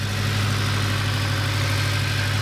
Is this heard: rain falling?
no